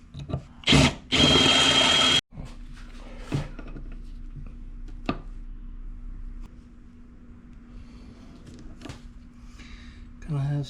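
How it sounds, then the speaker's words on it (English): A power drill bores a hole into a Ford Mustang control arm in short loud bursts, followed by quieter scraping and tapping of tools, with a steady low background hum. "that way we can drill a hole so that it will have access"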